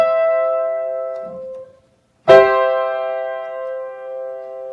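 A chord in second inversion, fifth in the bass, is struck once after a prior chord fades and a brief silence, ringing out and slowly decaying, alone and clear.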